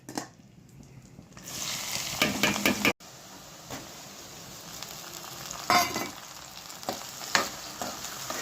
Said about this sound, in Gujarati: તો સૌ પ્રથમ અહીંયા આપણે તેલ લીધું ને એમાં હિંગ, લીલી ડુંગળી, ટમેટાં અને ટમેટા.